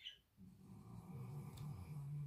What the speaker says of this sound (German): Mein Hund schnarcht.